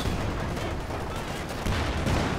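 A video game battle with Sherman tank fire alongside infantry guns, a dense, continuous roar of shots and heavy blasts, loud and unbroken throughout.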